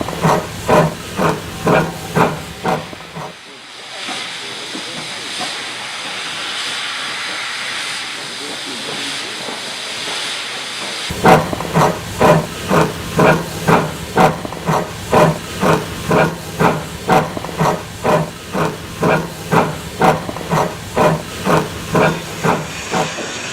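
A steam locomotive at a Welsh colliery line in 1972 gives off a long, steady hiss of released steam between bursts of rapid, rhythmic chuffing exhaust beats, loud and close.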